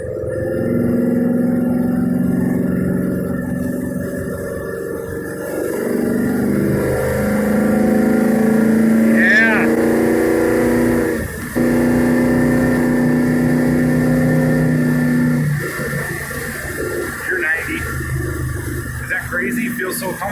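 A 1973 Dodge Challenger driving at speed, its engine droning steadily with shifting pitch as it pulls, heard from inside the cabin, loud and continuous with people talking over it.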